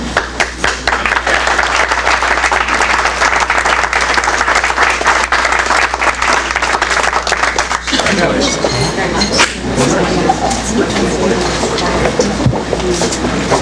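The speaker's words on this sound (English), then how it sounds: "Let's have one more round of applause." Audience applause at a Pat Hill citizen of the year awards ceremony, a dense, steady wash of clapping from a sizeable crowd that fills the whole stretch, thinning slightly partway through.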